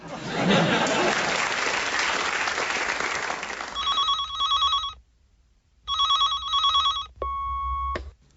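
A telephone rings in a domestic comedy scene before an answering machine picks up, bursts of bright electronic ringing repeating with gaps after a stretch of loud audience applause and laughter.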